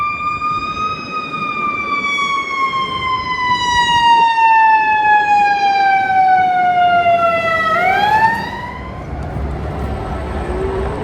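A loud wailing siren from fire trucks and ambulances in a downtown street in Canada sweeps steadily downward in pitch, then shifts abruptly as the vehicle passes, with traffic rumble underneath.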